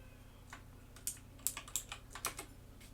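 Keystrokes on an upside-down computer keyboard come as a run of quiet, irregular clicks at close range over a steady low hum, with no one speaking.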